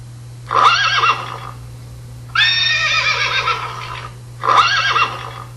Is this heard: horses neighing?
yes